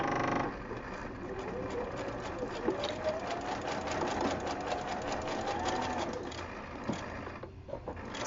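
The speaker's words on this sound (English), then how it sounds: "I am going to use kind of 1/8 of an inch on this to sew it down." A sewing machine runs steadily while stitching down a zipper pouch about 1/8 inch from the edge, giving a continuous close whir with fast needle ticking.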